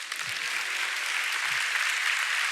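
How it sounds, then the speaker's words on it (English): Audience at a county State of the County address breaks into a brief, full burst of applause, loud and even throughout, many hands clapping together with no talk over it. "That deserves an applause."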